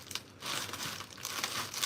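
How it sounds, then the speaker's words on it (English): Scrap cardboard crinkles and rustles as it is rolled up for packing, quiet and close, in a steady stretch of scraping with a few sharper crunches. "So I'm gonna make a little like burrito, cardboard burrito, right? So bam, scrap cardboard all rolled up."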